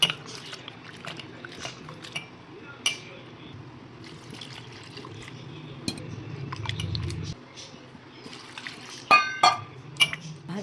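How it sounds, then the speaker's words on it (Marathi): Bitter gourd being rinsed in water in a kitchen, with soft sloshing and trickling, occasional clinks of a vessel and sharper knocks near the end, fairly quiet throughout. "कारले ना एक 2-3 वेळेस चांगलं स्वच्छ धुवून घ्यायचं"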